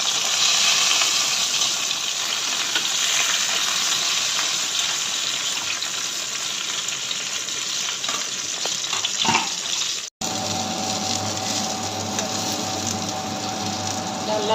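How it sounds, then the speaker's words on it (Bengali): Ash gourd leaf fritters coated in mustard paste fry in a pan, giving a continuous, fairly loud hiss of sizzling oil that carries on with no voices and briefly cuts out near the end. "লাল লাল করে ভাজা হয়ে এসছে, তুলে নেবো"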